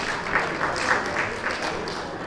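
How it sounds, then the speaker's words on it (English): Brief burst of steady applause from a crowd at an Igbo Cultural Day event in New Zealand, clapping evenly throughout with no pauses. "Please, a round of applause as she comes to the stage."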